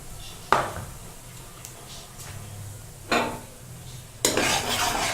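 Maize flour being stirred and roasted in a pan over a low flame, with a few distinct scraping strokes and light metallic clinks against a quiet background, the last stir louder and longer.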